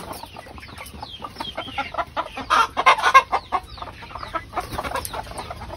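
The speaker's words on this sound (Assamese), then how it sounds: "এইবোৰ মোৰ ডাঙৰ মুৰ্গী, যিখিনি মই কণী পৰাই আছোঁ" Large laying hens kept for eggs, out in the open and feeding on paddy, cluck in short, uneven bursts nearby. The calls grow louder and denser toward the middle, then settle back into scattered clucks.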